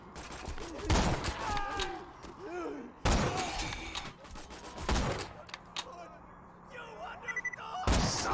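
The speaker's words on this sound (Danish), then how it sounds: "Så kan jeg bedre lige geværet her. Det skyder lidt hurtigere." Rifle gunfire in a video game cracks in a few sharp, loud bursts spaced apart, with game ambience and someone talking in between.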